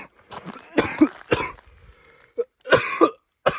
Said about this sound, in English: I don't need to show you any more clips of me violently coughing